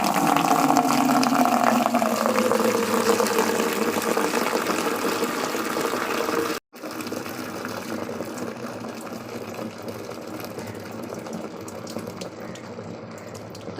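Water gushes steadily into a bucket holding detergent powder for soaking laundry, a close, continuous rushing fill that cuts out for a moment midway before carrying on a little softer.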